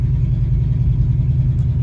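An Oldsmobile fitted with a new transmission idles and rolls along under its own power, giving a steady, close, low engine rumble that holds even throughout with no voices.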